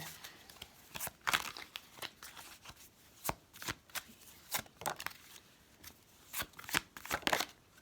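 Fairy oracle cards being shuffled by hand in a quiet room, a steady run of sharp papery riffles and slaps repeating every fraction of a second, close and crisp with no talk.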